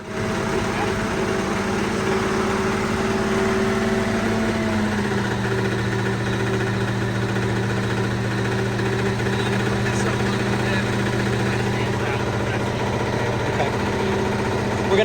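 A 1965 Ford Mustang coupe engine idles steadily and close by throughout, a constant mechanical drone with a slight change in pitch partway through, and no talk over it.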